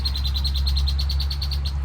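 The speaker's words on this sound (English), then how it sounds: "You can hear those birds around." A bird chirps in a quick, even series of high notes over a constant low hum.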